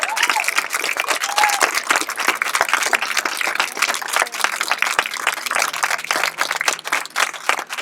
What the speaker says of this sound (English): give them one more round of applause for all their hard work